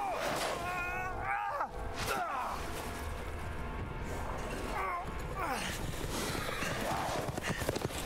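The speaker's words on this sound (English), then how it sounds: "Why are zombies riding horses?" Horses ridden by zombies in the Resident Evil Village video game gallop with rapid clip-clopping hooves and shrill neighs and whinnies, loud and close amid chaotic game noise, with a person speaking over it.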